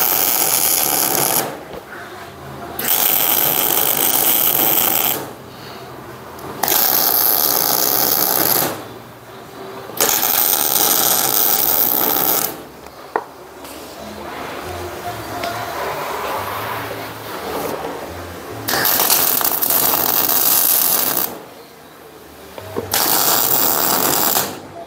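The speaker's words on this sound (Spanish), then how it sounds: "Voy a resoldar estas varillas." Metal rods are re-welded on a jig for a Spicer 800 rear axle end, with repeated loud crackling buzz bursts of a few seconds each, separated by quieter pauses with handling noises.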